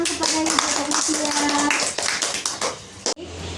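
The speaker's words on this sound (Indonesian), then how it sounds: "Beri tepuk tangan kepada Ibu Mutia" A small group in a therapy group session claps hands for a participant, close and distinct slaps in an irregular rhythm, with voices talking alongside before a sharp cut near the end.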